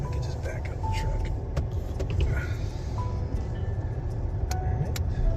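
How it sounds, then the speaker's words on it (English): A truck idles and rumbles low while backing up on a muddy forest trail in Bald Eagle State Forest, with faint clicks and beeps above the engine. The engine noise is steady and close, and people talk over it. "We can just back up the truck."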